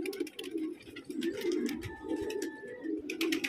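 A pigeon arrives amid flock sounds, with steady low cooing repeating throughout and bursts of wingbeats and fluttering clatter at moderate closeness.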